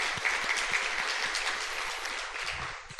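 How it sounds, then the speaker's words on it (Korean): A church congregation gives a round of applause during a Korean Friday night worship service, a steady wash of clapping heard at moderate distance, fading slightly toward the end. "우리 주님께 영광의 박수 올려드리겠습니다."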